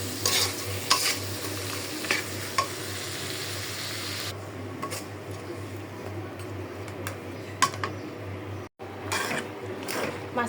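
Fish stir-frying in a pan before greens are added, a continuous sizzle broken by repeated scraping and clattering stirs of a spatula against the pan, close and fairly loud.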